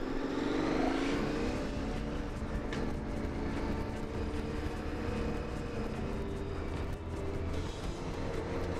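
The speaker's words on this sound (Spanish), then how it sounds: "salimos a hacer una prueba con la moto" KTM 1090 Adventure R motorcycle on a test ride after a suspension adjustment, a steady engine hum mixed with heavy wind rush that continues throughout and stays fairly faint.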